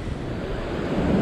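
Sea waves wash against a rocky fishing point off Sydney, a steady broad rushing surge with wind noise, moderately loud and continuous.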